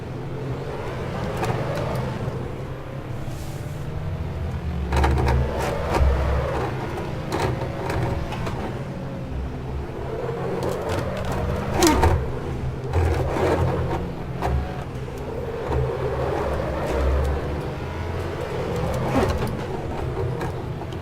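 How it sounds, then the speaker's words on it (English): A Lotus and a Yellowbird CTR race through a lap at speed, a continuous engine and road roar heard from inside the car with steady rumble and occasional rattles and knocks. "And the old Lotus is catching me here."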